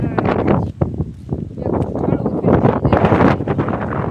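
Strong wind on a rooftop buffets the microphone in loud, gusty roaring bursts that fill the whole clip, with a voice speaking underneath.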